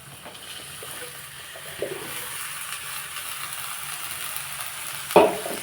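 Ridge gourd is added to a hot pan of fried seasoning, giving a soft, steady sizzle with light stirring noises and a sudden clatter near the end.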